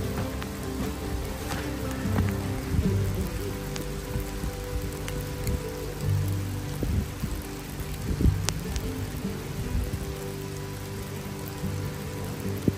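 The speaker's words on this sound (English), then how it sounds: "The rain's coming down hard." Heavy rain pours steadily onto trees and the ground in the Rocky Mountain hills. The hiss is dense and continuous, with occasional louder drops and knocks nearby.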